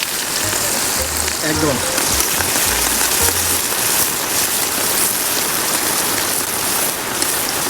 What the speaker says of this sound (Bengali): প্রথমে দিয়ে দেবো হচ্ছে আপনার পেঁয়াজ